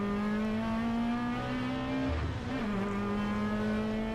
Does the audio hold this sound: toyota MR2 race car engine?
yes